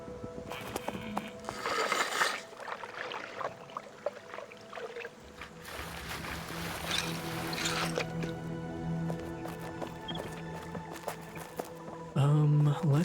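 Water being collected in the survival crafting game Pax Dei, with dripping, splashing and squishing liquid effects over a steady ambient game background, ending in a brief louder burst.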